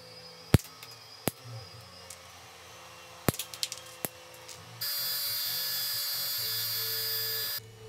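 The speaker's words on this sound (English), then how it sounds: "I'll use a little Dremel tool to smooth out the surface there" A small Dremel rotary tool smooths the surface of a 3D-printed model plane part, whirring as a steady high buzz for about three seconds after several sharp clicks and taps from handling, close by with no talk.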